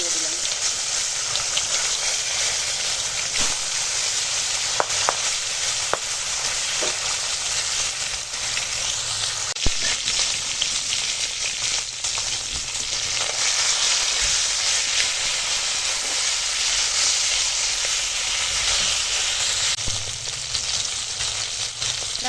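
Bata fish frying in hot oil, a steady broadband sizzle running throughout at moderate loudness with occasional crackles and faint voices and stirring under it.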